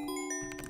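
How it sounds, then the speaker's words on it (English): A short synthesized bell tone rings out with a bright, sustained chime and a second soft struck note near the end. "change the sound to a bell right here"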